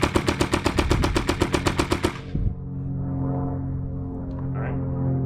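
Hindsight paintball marker firing in dry condition, a rapid, even burst of roughly fifteen sharp close shots that stops abruptly, leaving a low steady hum and faint mechanical noise.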